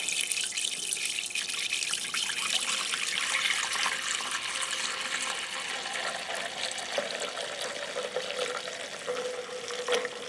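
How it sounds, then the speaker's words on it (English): Water mixed with degreaser cleaner pours steadily into a container during carburetor cleaning, a continuous splashing, gurgling rush that stays fairly loud and close for the whole stretch with no voices. "a gallon of water and some cleaner degreaser stuff I'm going to pour in here"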